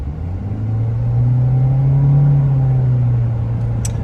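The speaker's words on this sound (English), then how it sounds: "we're gonna take a loop here, rev it out just a little more" A Toyota Corolla Cross Hybrid engine revving on a test drive, a loud steady close drone that swells in pitch and then eases back, heard from inside the car with no talking.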